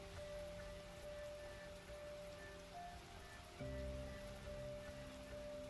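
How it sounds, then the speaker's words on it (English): Heavy downpour in an Arknights story scene: a steady, soft patter of rain on surfaces, faint and continuous with a low background hum. "The downpour continues"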